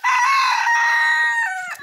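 A rooster on a ranch with a flock of Embrapa hens crows once, a loud, close, drawn-out call that lasts nearly two seconds and fades at the end, with no voices over it.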